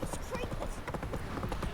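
Hoofbeats of Roach, the horse in The Witcher 3: Wild Hunt, clop steadily through the whole short stretch at a close, even level, with someone talking over them.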